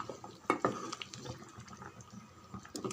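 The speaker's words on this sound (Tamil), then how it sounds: "கொஞ்சமாக கொத்தமல்லி இலை அப்படியே சேர்த்து நல்லா கலந்து விடுங்க" A spoon scrapes and clinks against a pot while chicken kuzhambu curry with a little coriander leaf is stirred, with uneven clanks and wet sloshing close up and no one talking.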